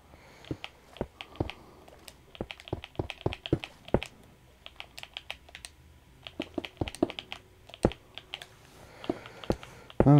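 PS4 controller buttons clicking during a Minecraft session: sharp, close, irregular taps in quick clusters with short pauses, loud and clicky against a quiet background.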